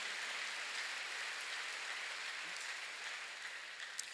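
A church congregation claps together during a sermon, a dense and steady patter of many hands that holds at an even level for several seconds.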